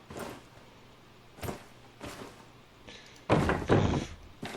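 Locked door in Electrician Simulator being tried: several dull thunks and rattles as the handle is pulled without giving, the last two louder and heavier, with no talk over them.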